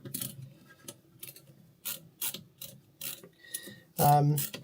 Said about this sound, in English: So let's take some of these screws off.